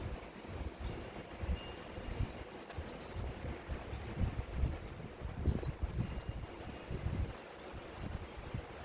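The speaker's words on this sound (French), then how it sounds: "J'entends le bruit du vent, le murmure du vent dans les arbres" Steady wind gusting through trees, a broad rustling whoosh that swells and eases without pause, with a low rumble of wind buffeting underneath.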